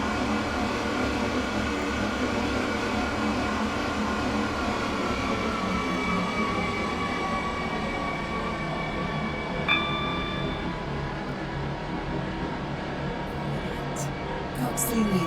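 An R132 metro train running in the Roblox game SCR, a steady droning rumble with faint tonal whine, fairly loud and unbroken, with a short clatter near the end.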